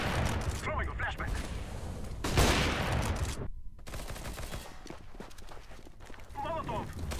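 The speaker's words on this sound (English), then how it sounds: "Throwing a flashbang." A flashbang grenade goes off amid gunfire in the game CS:GO on Dust 2, sharp bursts and a loud pop mixed with footsteps and rapid shots, with players talking over it.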